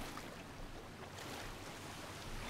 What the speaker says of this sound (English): So you can see it's like a pretty little waterfall.